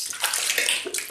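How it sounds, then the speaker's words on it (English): Running water rinses mentholated shaving cream lather off a face during a wet shave, a steady close splash and hiss lasting about a second with no talk. "Rinse off."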